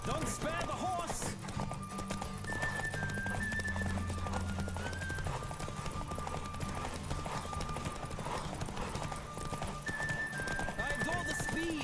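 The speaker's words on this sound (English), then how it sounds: "Don't spare the horse!" Horse hooves clip-clop at a steady gallop in The Witcher 3, with a whinny, under a continuous music bed and light background voices.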